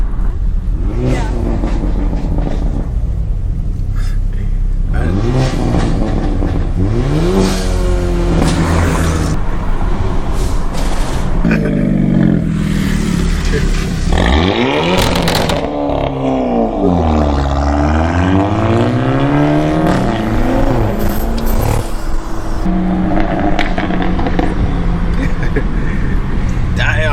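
A Hyundai Elantra N engine revs and roars loudly nearby, rising and falling in pitch through repeated accelerations, with people talking over it.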